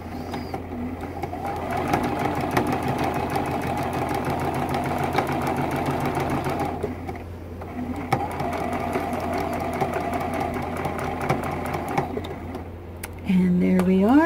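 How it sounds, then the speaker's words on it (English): A sewing machine with a quarter-inch presser foot stitches a T-shirt quilt seam from top to bottom in a steady, continuous hum, dipping briefly once before resuming, with some talking over it. "we're just going to sew this seam from the top to the bottom."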